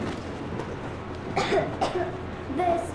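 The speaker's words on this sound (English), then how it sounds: "I have this cough." A child coughs several times in short, rough bursts in the video game Metro Exodus, close and fairly loud, over a low steady background.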